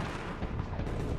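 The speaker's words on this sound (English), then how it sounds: "Our cannon were laying fire on the enemy boats." Historical cannon fire from a British battery near the crest of Queenston Heights during the War of 1812, aimed at enemy boats: a continuous heavy, rumbling roar of booming artillery, loud and dense, with no voices.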